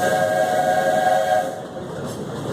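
A steam train whistle on the Walt Disney World railroad gives a loud, sustained tonal blast with stacked harmonics for about a second and a half, then drops to a steady rumble of the moving train.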